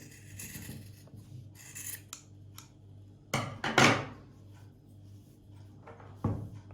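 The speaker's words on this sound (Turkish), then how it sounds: "Taradıktan sonra hepsinin aynı hizada olması için tekrar kesiyorum." Scissors trim the fringe cords of a macrame lampshade, giving several crisp cuts with a loud, rasping burst midway and another snip near the end, close and alone.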